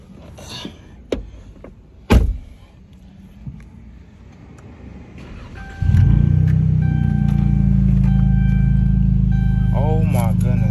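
Straight-piped 2013 Dodge Charger V6 cranking and firing up, settling into a loud, deep, rumbling idle right up close, after a few thumps and some talk beforehand.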